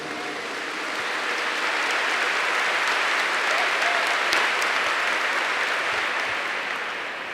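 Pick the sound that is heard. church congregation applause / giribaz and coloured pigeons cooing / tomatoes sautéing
church congregation applause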